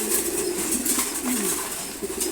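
Pigeons in a loft cooing softly among rustling and wing movement at morning feeding, a close, busy murmur with no voices.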